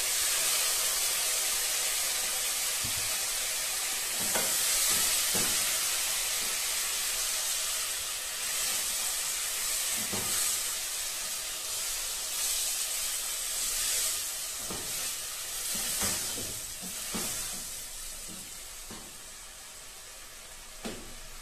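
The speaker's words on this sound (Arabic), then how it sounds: "هنقلب الدجاج ونضيف عليها الطماطم" Chicken pieces and tomatoes sizzle loudly in a hot pan, a continuous close hiss of steam and frying broken by scraping clatters as they are turned and stirred, with no voices.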